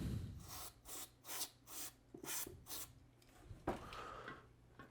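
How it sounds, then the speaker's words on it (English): CRC contact cleaner sprayed into a radio's potentiometer in repeated short bursts, about six close hissing sprays with brief pauses between, followed by faint rubbing and handling noises. "I'm just going to use some CRC cleaner here and spray it in that pot."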